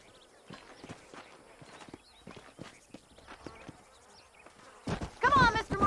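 Horse hooves in the video game Red Dead Redemption clip-clop at a steady walking pace, soft and mid-distance, before a louder burst of sound breaks in near the end.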